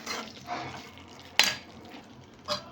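A spoon scraping and stirring goat liver fry with pepper powder and garam masala in a pan, soft continuous scraping with a couple of sharper metallic clinks, close and without talk.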